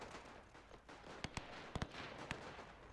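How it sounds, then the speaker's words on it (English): Scattered sharp gunfire cracks in the WW1 video game Between Empires, a few quick bursts of two or three shots each, over a hissing battlefield ambience. "so that's definitely a machine gun"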